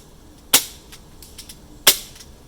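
Two sharp, loud pops from a Colt Combat M1911 CO2 airsoft pistol fitted with a 3D-printed suppressor, fired about one and a half seconds apart with quiet between shots.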